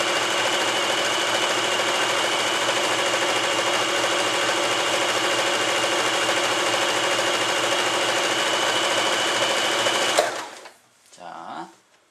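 An Elna 2000 sewing machine runs continuously as it feeds fabric back and forth automatically, a fast, steady mechanical whir and needle clatter for about ten seconds before it stops abruptly, followed by a brief faint rustle.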